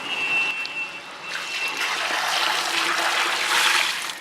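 Water pours into a large pot for turkey biryani rice, a continuous rushing splash that grows fuller and louder toward the end, with no talking over it.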